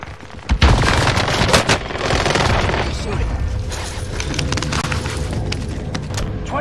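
Rapid gunfire in the battle royale game Call of Duty Warzone: a sharp shot, then sustained automatic bursts and booms packed densely together, loud and close, while a voice calls out under the fire.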